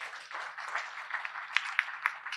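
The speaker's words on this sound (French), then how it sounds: "Donc, applaudissez-vous," A conference audience applauds after a talk on goal-oriented roadmaps, giving steady, moderately faint clapping throughout with a few sharper individual claps standing out near the end.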